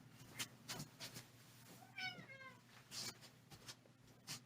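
A pet cat meowing indoors: one clear, drawn-out meow in the middle, fairly close but quiet, among soft clicks and faint room noise.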